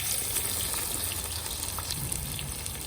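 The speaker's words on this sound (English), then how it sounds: "Now I have to fry the onion. And now I'm putting the onion first." Onions frying in hot oil for Uzbek plov make a dense, even sizzle and hiss that runs steadily throughout, close and fairly loud with no pauses.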